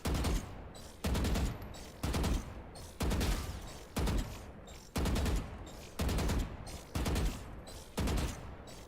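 Repeated bursts of rifle fire in a Valorant match, about nine evenly spaced loud volleys roughly a second apart, each a rapid crackling spray of shots with brief gaps between.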